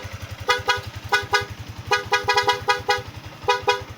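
Newly installed aftermarket pop-up style horn on a motorcycle honking in a series of short, loud, close blasts in bursts, over a steady rhythmic idling engine.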